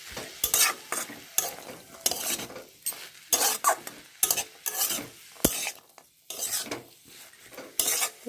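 Spinach being stirred into fried chickpeas, potatoes and lentil dumplings in leftover hot oil, a spoon scraping the pan in repeated bursts over a steady sizzle, close and fairly loud with no talk.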